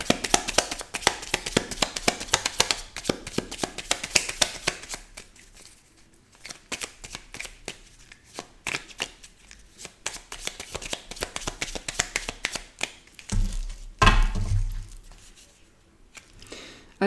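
A deck of tarot cards is shuffled by hand in a rapid, continuous riffle of crisp flicks that thins into sparser taps, close and fairly loud, with a soft thump near the end.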